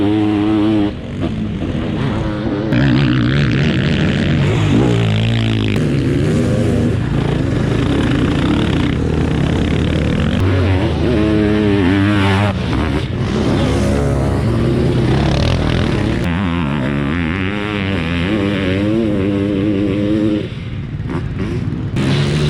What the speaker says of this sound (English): Hear the pure two-stroke power.